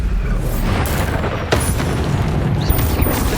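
Bombarda explosion spell cast in Hogwarts Legacy combat: continuous heavy rumbling booms with a sharp fresh blast partway through, loud and dense, with more hits and crackles layered over the din.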